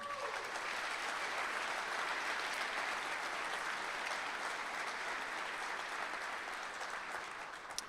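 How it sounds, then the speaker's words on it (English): Crowd at a school sports awards ceremony gives a long, sustained round of applause, dense and even throughout, heard from within the room with no talk over it until a slight tapering near the end. "So please join me in a round of applause for those groups, please"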